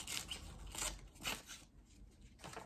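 A freshly honed chisel, sharpened with a Saker honing guide, slices through a sheet of paper in a series of close, rough, rasping cuts and rubbing strokes, each lasting about a second with brief pauses between them.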